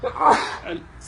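A single sneeze bursts out at close range, brief and forceful, with a faint voice afterward.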